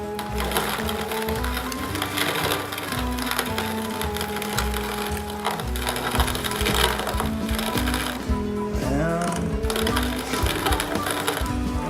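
Barley grain cracking in a grain mill for brewing a Redhook ESB-style beer, a continuous loud grinding and crunching rattle with steady motor drive throughout, close up and alone.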